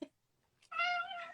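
A cat gives one clear, mid-length meow, fairly faint and close, after a brief quiet gap.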